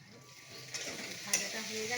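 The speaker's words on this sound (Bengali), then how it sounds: "কড়া করে ভেজে নিই ভাজাটা একটু" Food frying crisp in a pan, with a continuous bright sizzle punctuated by a couple of short spatters and faint stirring, heard up close for a moment under a hint of background voice.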